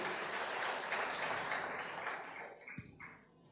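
A church congregation claps together in dense, lively applause that fades out over the final second, leaving a few scattered claps.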